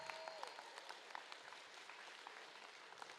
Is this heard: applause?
yes